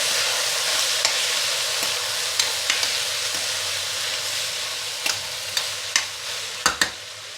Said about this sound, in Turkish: Yağı yanmasın diye karıştırdım